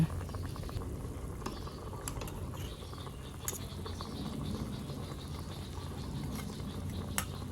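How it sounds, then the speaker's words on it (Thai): Isan-style Thai chicken curry with winter melon boils steadily in a pot, a continuous close bubbling and light pattering with no voices. "แต่แล้วเขาก็จะต้มไปจนกว่าฟักสุกจ้า"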